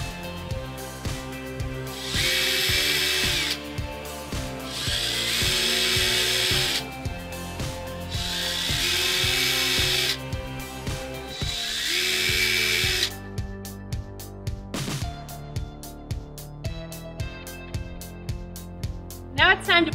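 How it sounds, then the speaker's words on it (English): A power drill bores four pilot holes into a wooden piling, with repeated bursts of high motor whine separated by short pauses, followed by lighter clicks and handling sounds, a narrator speaking in between. "Now drill 4 pilot holes for your screws."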